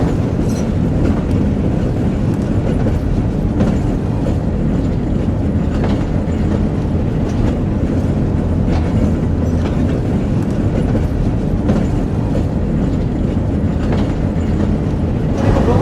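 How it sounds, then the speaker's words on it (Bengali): The Betna Express train rumbles along, heard from inside the locomotive after leaving Khulna station, a loud, continuous roar with steady clattering wheels throughout and no speech. "খুলনা স্টেশন থেকে যাত্রা শুরু করলো বেতনা এক্সপ্রেস ট্রেন"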